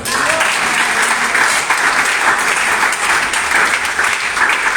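Congregation applauding in a church, a sustained, dense wash of many hands clapping at steady loudness throughout, with faint voices mixed in.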